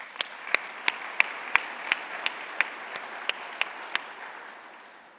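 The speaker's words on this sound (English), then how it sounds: "Please give yourselves a round of applause" A business session audience of disabled veterans claps for themselves, a steady round of applause with several distinct close claps punctuating the crowd noise, tapering off at the end.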